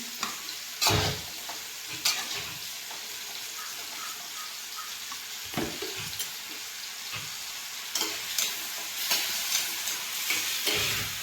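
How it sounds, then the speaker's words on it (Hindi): Mushrooms fry in a pan with a steady sizzle, broken by periodic stirring scrapes and knocks, heard close and without talk. "दीदी यहाँ पे कर रही है मशरूम फ्राई।"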